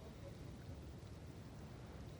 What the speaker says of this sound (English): Concentrate on the rain and the hum of the wind.